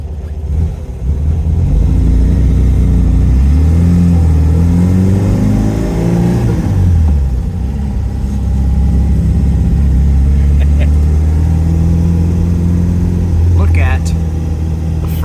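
A Porsche 914 Chalon engine pulls away in first gear and revs up with a loud, steady drone, rising in pitch, easing off around the midpoint, then building again, heard close from inside the car.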